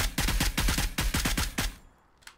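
Close automatic gunfire in PUBG: a quick burst of about ten loud, evenly spaced shots, then silence and a single faint later shot.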